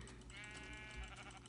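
A sheep in Minecraft lets out a single wavering bleat over a steady, hissy game background.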